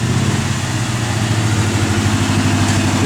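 A 1986 Chevrolet Blazer K5 engine idles loud and close, a steady low rumble with even pulsing and no voices.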